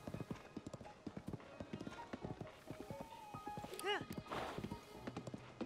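Hooves of a horse in Zelda: Tears of the Kingdom clip-clop in a quick, steady rhythm, up close, with a brief whinny partway through and a voice speaking over the gallop.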